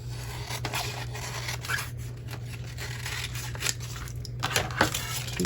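Scissors trim the edge off paper for a junk journal recipe pocket, making a few soft snips and scraping cuts over a constant low background hum.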